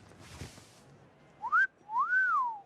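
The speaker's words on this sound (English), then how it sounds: "Hey now, that's a mean whistle." A person whistles loudly in two rising-and-falling tones, a short upward swoop then a longer arching note, after a brief low thump.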